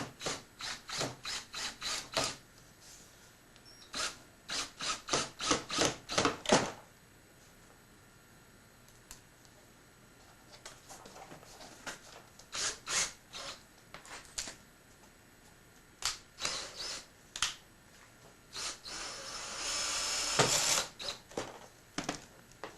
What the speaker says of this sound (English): Put a couple screws in there.